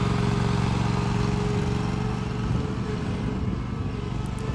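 A John Deere Z648M stand-on commercial mower running on a steep hill gives a steady, close engine drone with a constant mid-pitched hum, with no talking.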